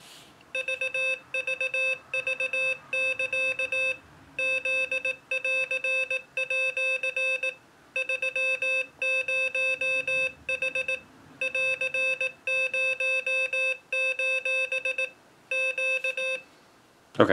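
A Morserino-32 generating random Morse code sends crisp, steady electronic tones in short and long groups, spaced by brief pauses and repeating cleanly and alone for the whole stretch.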